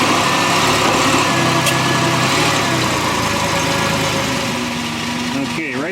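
A 2007 Ford Explorer Sport Trac engine idles steadily and loudly throughout with a constant low rumble, while the automatic transmission is shifted through the gears, and some background voice noise is mixed in.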